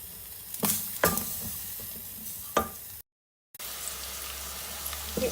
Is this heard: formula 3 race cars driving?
no